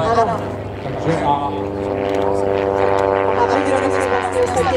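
Zlin Trener training aircraft flying at the Rakovník airshow, a steady droning propeller engine holding one tone while a commentator talks over it.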